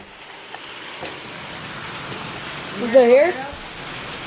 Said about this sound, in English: But I think you can hear it. Yeah, you can kind of see the rain falling.